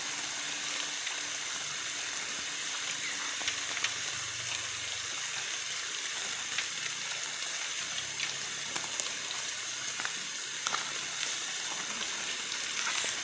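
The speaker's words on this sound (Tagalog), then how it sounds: "Maulan po kasi dito" Steady rain falls in forest beside Mahagnao Lake in Barangay Bucawon, La Paz, Leyte, a continuous close hiss of drops on leaves and water with scattered sharper taps and no voices throughout.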